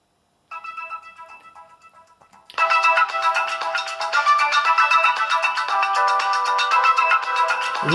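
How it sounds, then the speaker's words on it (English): A Samsung phone plays its ringtone: a quieter melodic chime for about two seconds, then a much louder, dense, bright ringing tune that carries on steadily to the end, with no talking. "And you can see just how bright and loud this phone is."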